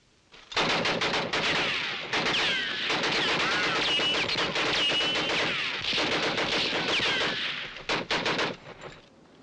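A weapon being tested fires in long rapid automatic bursts, loud and close, separated by brief pauses and ending in a few scattered shots.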